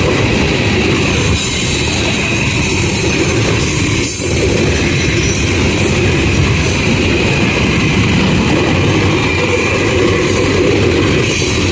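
A train rumbles steadily along the tracks, a loud continuous roar with rattling and faint metallic squeal, close by.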